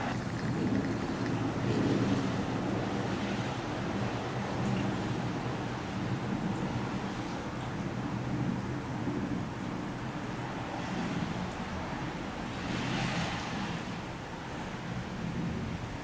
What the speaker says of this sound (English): It's still raining out here